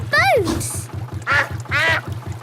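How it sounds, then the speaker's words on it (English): A cartoon duck from Peppa Pig lets out a few distinct quacks, close and loud, over the regular chug of a canal-boat engine while a character speaks. "Want a race, do you, Mrs. Duck?"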